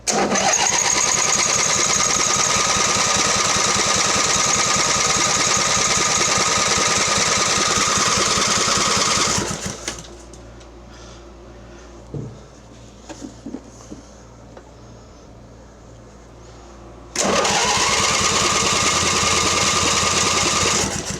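A Mastercraft 46-inch riding mower's engine cranks and tries to start in two long, loud, grinding bursts, separated by a quiet pause with faint clicks and handling noises.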